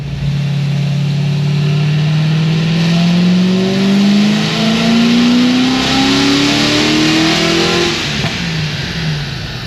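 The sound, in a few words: supercharged LS7 engine car revving in a pull to 5100 rpm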